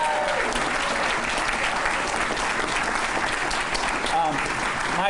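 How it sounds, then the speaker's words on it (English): Crowd at an Ohio Democratic Senate primary victory event applauding the Local 67 firefighters, loud dense sustained clapping filling the room, with a voice faintly audible beneath it. "Give a big round of applause to the firefighters here, Local 67."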